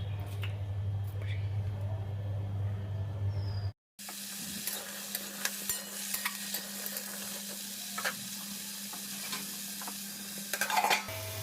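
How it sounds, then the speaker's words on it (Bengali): Potatoes fry in a pan with a steady sizzle and hiss, broken by a brief cut, then continuing with clinks of utensils against the pan and occasional stirring scrapes. "এদিকে আলুটা ভাজা হোক"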